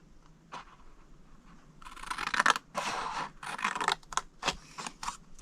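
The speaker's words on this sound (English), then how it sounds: "Go to the next score line, cut it to the second score line" Scissors cutting cardstock along score lines for a Stampin' Up! candy bar sleeve, with a few soft snips followed by longer crisp cutting strokes and a sharp final snip, close and without talk.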